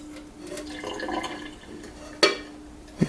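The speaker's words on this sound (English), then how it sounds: "we're going to take this, drain the water" Water drained off cooked ramen noodles in a kitchen: a quiet, soft pouring trickle followed by two short, sharper splashes near the end.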